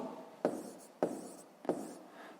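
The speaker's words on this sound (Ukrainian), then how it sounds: "Пишемо відповідь." Three short pen strokes scratch across paper while an answer is written, each a quick, close rubbing burst separated by brief pauses, quiet and alone.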